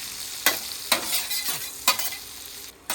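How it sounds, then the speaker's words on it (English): Garlic sizzling in butter on a hot flat top griddle, a steady bright frying hiss with several sharp stirring scrapes of a spatula, close and loud, no voices. "We're gonna add that garlic right to the butter."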